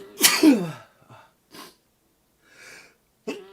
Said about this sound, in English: Excuse me, guys, I gotta sneeze.